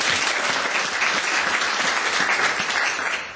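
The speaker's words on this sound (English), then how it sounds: "Big round of applause for him." A full round of audience applause at a House of Lords debate on human rights in Saudi Arabia greets speaker Robert Lacey, a dense, steady clatter of many hands holding loud and close before tapering slightly at the end.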